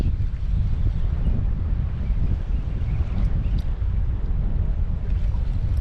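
Steady strong wind roars across the microphone on a sea-fishing trip at sea, mixed with the low wash of boat and water noise, loud and continuous throughout.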